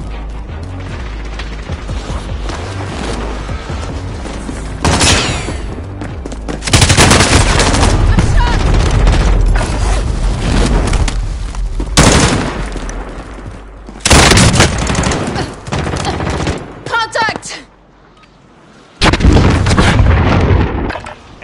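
Hostile gunfire and explosions in a video game battle: loud, dense bursts of rapid automatic fire and heavy booms, separated by a few brief lulls.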